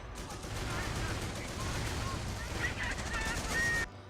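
High explosive rounds fire in a World War II video game, a dense run of booms and crackling blasts for several seconds, some distant, cutting off abruptly at the end.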